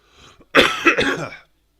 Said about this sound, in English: It's only a cough.